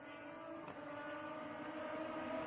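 A vintage race car engine at Mid-Ohio, heard faintly and at a distance, drones steadily with shifting tones as it lifts through the gearbox from second into third.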